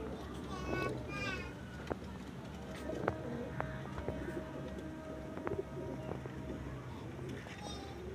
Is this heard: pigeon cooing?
yes